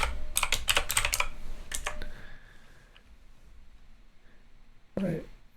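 Code typed on a computer keyboard: rapid bursts of close key clicks for about two seconds, then quiet, with a brief rustle near the end.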